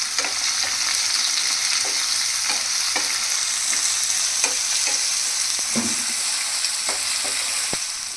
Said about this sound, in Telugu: ఈ ఉల్లిపాయ పచ్చిమిరపకాయ తరుగు వేసేసుకొని గోల్డెన్ బ్రౌన్ కలర్ వచ్చే వరకు ఫ్రై చేసుకోవాలి ఫ్రెండ్స్